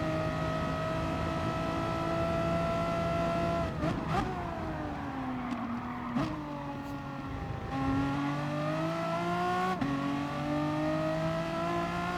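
Renault Megane Trophy race car engine in the Gran Turismo Sport racing game, a steady high engine drone that drops and climbs through several gear shifts, with no talk over it.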